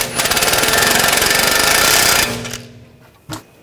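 Impact wrench tightening a strut nut on a 2014-2020 Nissan Rogue during a front strut and spring replacement, a loud rapid hammering rattle for about two seconds, then winding down, followed by a short clank.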